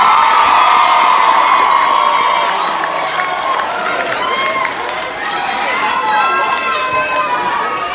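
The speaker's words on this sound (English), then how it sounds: "Give yourselves a round of applause." Graduates at a Mumford High School graduation applaud and cheer themselves, loud sustained clapping and excited shouting, with the roar easing slightly midway while voices and whoops carry on over it.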